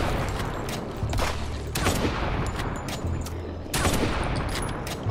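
Gunfire from the zombie survival video game HumanitZ comes in several rapid bursts of sharp shots with loud cracks and short pauses between volleys, close and dense, with no talking.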